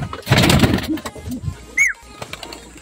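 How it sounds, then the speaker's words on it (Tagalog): Racing pigeons returning to the loft during a north derby training race, with cooing and fluttering near the start and a high chirp later, under background voices. "May dumating na ulit tayo. May pangatlong ibon."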